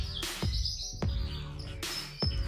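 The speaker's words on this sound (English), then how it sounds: "I'm sorry for the birds in my room." Pet birds chirp indoors in a room, with sharp repeated tweets and calls close by, some louder bursts punctuating a steady background of birdsong.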